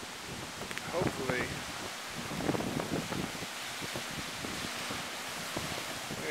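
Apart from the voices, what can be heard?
wind storm blowing at night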